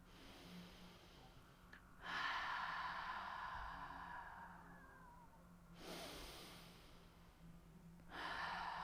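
Three long, deliberate breaths out through the mouth during a yoga session, each a soft breathy rush following a quieter inhale, spaced evenly and close with low ambient hum beneath.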